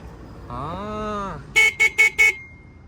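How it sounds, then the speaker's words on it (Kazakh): An electric Muravei three-wheeler sounds its horn: after a rising and falling electronic chime, four short, evenly spaced bright beeps ring out close by in a quick rhythm. "Сонун го сигналы."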